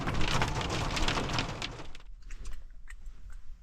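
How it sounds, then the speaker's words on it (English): Rain pattering on a surface in the Canadian Rockies near Fernie, BC, dense and close at first, then abruptly thinning to a few scattered drops after about two seconds. "It keeps raining"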